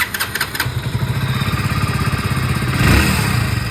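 A Hero Splendor BS6 motorcycle engine starts and settles into a loud, close, rapid idle with a steady pulsing beat. A brief rev comes near the end, just after reassembly following a noisy-engine repair.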